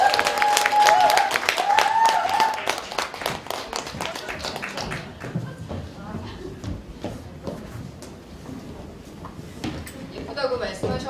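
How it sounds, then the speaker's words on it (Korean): A business seminar audience claps to welcome a company executive onto the stage, with loud scattered claps and cheers early on that thin out into sparser clapping, while voices talk over it. "우리 큰 박수로 신시아 다이아몬드 사장님 모시겠습니다."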